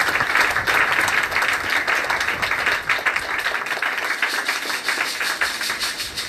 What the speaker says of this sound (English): Somebody clap your hand for Jesus.